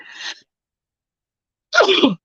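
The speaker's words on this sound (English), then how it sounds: "I'm going to sneeze next" A person sneezes: a short sharp intake at the start, a pause, then one loud, close, explosive sneeze.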